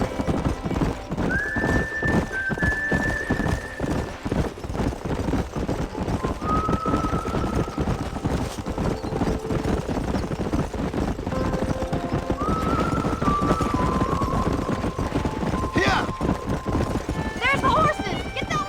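Horses in Red Dead Redemption clip-clop in a steady run throughout, with several whinnies and neighs cutting through, while people talk over the hoofbeats.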